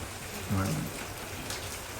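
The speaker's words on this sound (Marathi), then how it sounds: "खूपच पाऊस पडतोय, तुम्ही बघू शकता" Heavy rain pours down in a steady, dense hiss that holds evenly throughout, with a brief voice rising over it near the start.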